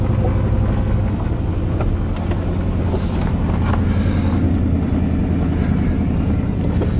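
A 1987 Chevy truck engine idles unevenly, running on six cylinders with the hood up on a farm, a steady loud low rumble with wind buffeting the microphone throughout.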